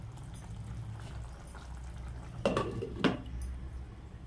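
A spoon scrapes and clinks twice against a pot as semiya is stirred in boiling water, with soft bubbling and stirring noises close by at low volume.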